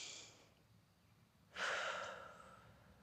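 Deep breathing during seated yoga: a soft exhale at the start, a quiet pause, then a sharp, fuller intake and long, fading breath out, close and faint with no speech.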